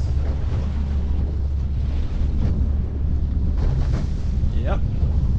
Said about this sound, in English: blowing about a 12 to 15 knot wind coming from the north.